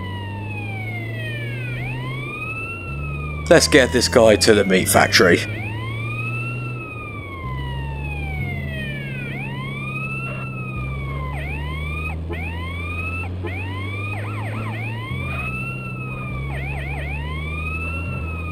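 Wailing ambulance siren in Grand Theft Auto San Andreas, sweeping up and down steadily throughout over a low engine drone, with a brief burst of louder crashing noise early on and a voice speaking briefly.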